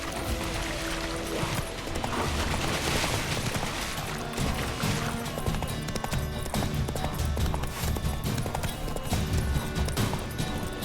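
Roach, Geralt's horse in The Witcher 3, gallops with a steady, rapid clip-clop of hooves that continues throughout, mixed with light tack rattle and game ambience.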